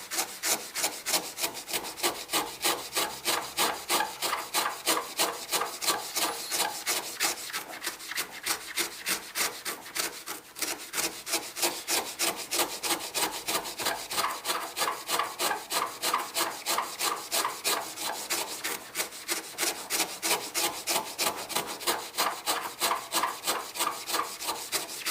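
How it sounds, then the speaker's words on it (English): Steady back-and-forth scraping of excess residue off a foam polishing pad held flat, a rapid, even rasping rhythm that continues without pause, close and fairly loud with no talking. "then you just scrape off all this excess."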